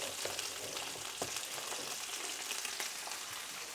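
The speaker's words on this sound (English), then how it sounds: "I'm going to cook this asparagus for about 2 minutes only" Asparagus spears blanch in a hot frying pan, giving a continuous, even sizzling hiss with faint crackles throughout and no voices.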